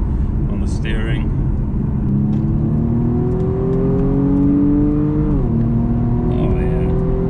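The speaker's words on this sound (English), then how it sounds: "Oh yeah, definite difference to the exhaust. It just sounds a little bit better." A modified BMW M135i's engine and exhaust drone inside the moving car: the note climbs steadily under acceleration, dips sharply at a shift, then climbs again, all loud and close.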